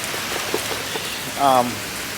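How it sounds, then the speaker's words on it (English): Steady rain patters on a surface in a dense, even hiss, with a brief tonal murmur rising briefly midway through. "It's raining."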